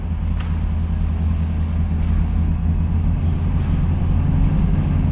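Bright orange 1969 Chevrolet Camaro Z/28 with a 6,000 RPM redline, its V8 engine holding a steady, loud, deep rumble at close range with no clear rise in revs, heard alone without talk.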